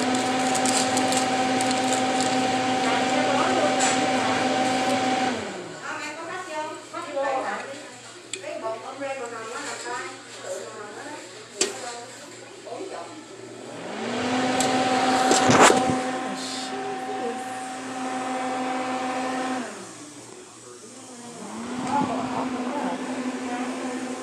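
A household clothes dryer hums steadily, cuts off, then starts up again, its motor drone stopping and returning in cycles while a person talks over the quieter gaps.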